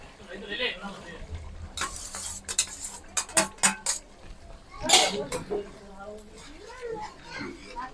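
Peas are spooned into a pot of freshly tempered spiced ragda gravy for dabeli, producing a quick run of metal spoon clinks and scrapes against the pot over a faint sizzle, with someone talking throughout.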